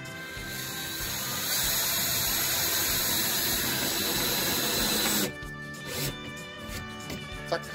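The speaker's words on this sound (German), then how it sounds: "Die verschraube ich jetzt einfach mit 25 mm Schnellschrauben." 25 mm quick screws driven into a curtain fitting inside a van conversion, a long whirring drive of a powered screwdriver that cuts off, followed by a few quieter bursts and knocks.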